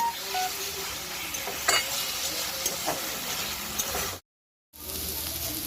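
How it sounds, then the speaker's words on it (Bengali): Spice paste for rohu fish kalia fries and is stirred in a pan, giving a steady close sizzle with scraping stirs that briefly drops to silence before resuming. "আমরা মশলাটাকে আরেকটু ভালো করে কষিয়ে নেব, তারপরে আমরা জল দেব।"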